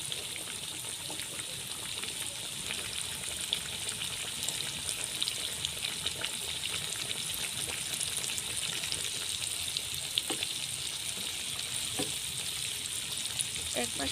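Chicken pieces deep-fry in a pan of oil for crispy fried chicken, a dense, even crackling sizzle that holds steady for the whole stretch, close and alone with no talk.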